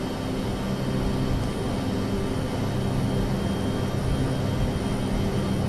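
Heavy cargo jet spooling up for takeoff in a flight simulator game, a steady loud engine roar with a low rumble and a faint high whine, continuous with no breaks.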